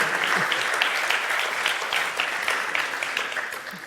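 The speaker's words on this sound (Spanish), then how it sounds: "Un aplauso." A crowd applauds at the close of a talk on wine market trends, sustained even clapping from many people in a hall, loud and continuous for several seconds.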